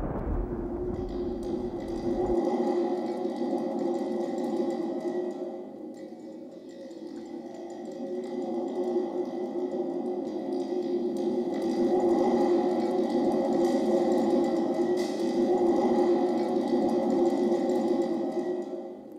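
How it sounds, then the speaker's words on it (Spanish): A thunder drum: a deep, rumbling metallic roar that swells and reverberates in long waves, like rolling thunder, with a sharp shimmering ring above it. "quiero mostrarles ese instrumento que algunos llaman tambor trueno"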